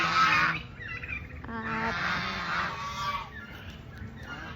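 Turkeys on a farm: a few nearby honking, gobbling calls in short bursts with brief pauses between them, moderately loud against quiet outdoor background.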